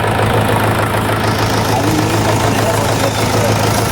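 A freshly rebuilt tractor diesel engine chugs steadily up close, loud and continuous with a low rumbling throb and no pauses.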